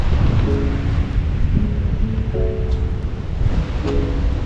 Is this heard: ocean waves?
yes